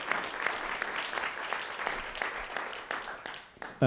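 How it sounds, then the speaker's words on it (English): Applause from an audience at a regional future-of-Washington forum, a steady wash of clapping through the whole stretch, moderately loud and without speech over it. "Round of applause for them."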